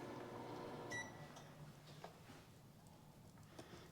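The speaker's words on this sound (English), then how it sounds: "Had my microwave go on." A microwave oven switches on in a room, its steady hum running throughout with a brief cluster of electronic beeps near the start, fairly quiet and without talk.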